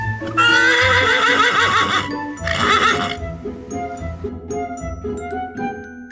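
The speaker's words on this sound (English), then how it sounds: "Horse neighing." A white horse gives a loud, close whinny in two strong bursts, shrill at first and then falling away, with softer snorting and stable noises trailing after it.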